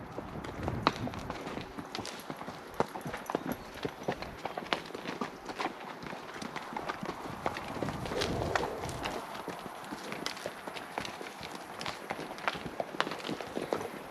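Several horses being started forward and strung out in a line rather than bunched, their hooves making a steady, irregular patter of footfalls across the whole stretch with no talking.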